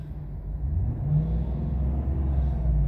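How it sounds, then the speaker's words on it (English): The engine of a 2015 Chevrolet Silverado 2500 HD LT 4x4 pickup with 176,800 miles revs up and holds a steady, loud, close rumble for a few seconds, with no talking. "Go ahead and rev that motor."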